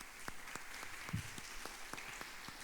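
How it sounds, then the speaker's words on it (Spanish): Congregation applause welcoming a first-time guest at a church service, soft and distant scattered clapping with a few sharper claps standing out over a quiet room. "Demos un aplauso de bienvenida"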